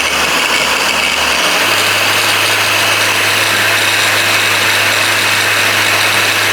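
A Blackfoot 4-inch cordless brushless angle grinder spinning at its second speed setting, a loud steady high whine with a constant motor hum that settles after a slight shift early on, running alone.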